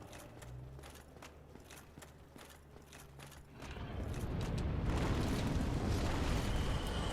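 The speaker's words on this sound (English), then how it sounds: "the dragon lighting that bridge on fire" Roaring rush of dragon fire sweeping over a bridge in Dark Souls Remastered, building from a quieter stretch with soft rhythmic thuds into a loud, sustained blaze that holds to the end.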